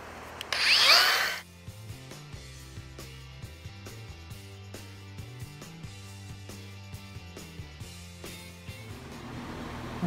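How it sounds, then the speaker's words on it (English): Drilling a hole for a pop nut in a shop, opening with one loud, close power-drill burst of about a second, followed by quieter metallic tapping and rhythmic shop clatter. "y'all just saw us drill the hole"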